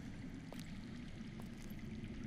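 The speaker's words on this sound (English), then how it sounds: "That's water. I hear water. From underground." Faint, steady rushing of water flowing underground in a drama scene, a continuous low wash with a couple of soft drips or splashes and no voices.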